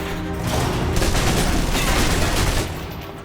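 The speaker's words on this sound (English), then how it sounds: "Now for your submachine guns. If you're trapped in close quarters with multiple opponents, the SMGs can help clear the room quickly." Rapid submachine gun fire in the video game Alpha Protocol, a loud, dense sustained burst lasting a couple of seconds with no talking over it.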